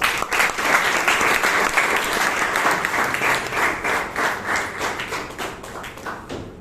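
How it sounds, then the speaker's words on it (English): Members at a Toastmasters club meeting in Bangalore give sustained, lively applause, a dense round of clapping that pulses slightly and tapers off near the end. "Please allow me to welcome a big round of applause"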